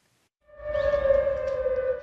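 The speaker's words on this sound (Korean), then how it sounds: "텅 빈 새벽거리에 정적을 깨는 사이렌 소리." A civil defense air raid siren wails over an empty street at dawn, a steady sustained tone that rises in after a brief silence and holds, with faint low rumble beneath.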